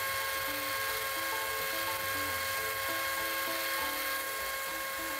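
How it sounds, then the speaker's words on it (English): Belt grinder running a heavy Scotch-Brite belt over the bevels of a 5160 steel hunting knife: a steady, loud, high whine with a continuous abrasive hiss, holding level throughout with no talk. "Now we're going to go in with that heavy Scotch-Brite belt again and just smooth the bevels out one last time."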